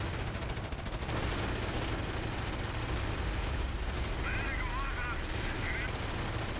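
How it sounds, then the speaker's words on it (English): A 57mm anti-tank gun firing in a World War II video game, heard as a dense, continuous barrage of booming gunfire and rumbling blasts with faint high whistling tones near the end. "The 57mm anti-tank gun fires."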